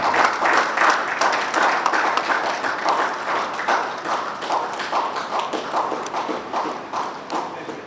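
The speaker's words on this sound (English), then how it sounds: "Let's keep clapping" An audience at a bar association legal education session claps for Chief Sunday Afiko, sustained group clapping with a loose pulsing rhythm, steady at first and slowly easing off.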